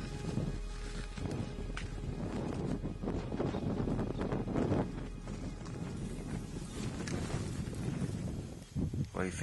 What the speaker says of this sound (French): il y a un peu de vent qui refroidit